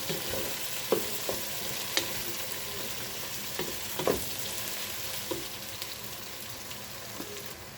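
Spaghetti sauce with a spoonful of vinegar stirred in a frying pan: a spoon clicks and scrapes against the pan at irregular intervals over a continuous close sizzle, with nobody speaking.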